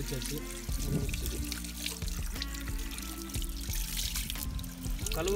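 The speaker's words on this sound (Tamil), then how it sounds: "கழுவுற தண்ணியெலாம் பார்த்தீங்கன்னா வாழை மரத்துக்கு போயிடும்," Tap water trickles and splashes steadily while squid is washed outdoors, a soft continuous pour with a few clattering handling sounds, fairly quiet and close.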